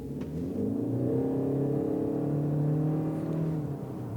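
2013 Ford C-Max Hybrid accelerating from a standstill to 35 mph, a smooth rising whir with climbing electric and engine tones, heard from inside the cabin, steady and moderately loud without voices.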